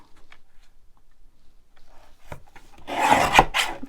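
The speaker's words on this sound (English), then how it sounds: "I can trim this edge square as well" Paper being trimmed square along one edge while making a lace junk-journal booklet: a quiet rasping cut builds near the end, loud and close, with no talking.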